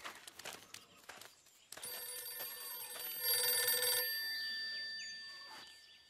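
A cartoon telephone rings with a bright, loud metallic bell trill that cuts in after some scattered clattering sounds, then fades away.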